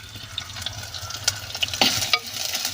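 Small onions sautéing in a pan, a close sizzle broken by irregular stirring clicks and sharp spatters.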